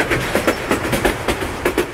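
Burimari Express runs on after crossing the Jamuna rail bridge, a rapid rhythmic clatter of wheels over rail joints repeating every fraction of a second, steady and fairly close.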